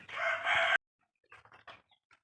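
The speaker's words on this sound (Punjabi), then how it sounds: "ਆਪਣੇ ਵੱਡੇ ਮੁਰਗੇ ਸਾਰੇ ਮੁਰਗੀਆਂ ਬੈਠੀਆਂ ਮਿੱਟੀ 'ਚ ਖੇਡੀ ਜਾਂਦੀਆਂ ਆ" A large farm rooster gives one loud, close crow, followed by a few quieter clucks from hens in the dirt.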